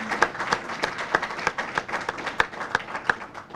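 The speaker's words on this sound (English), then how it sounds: "Let's give Lori a round of applause" A round of applause for a grant writer at a county officials' announcement, with many hands clapping in a steady, fairly quiet patter and several sharper nearby claps standing out throughout.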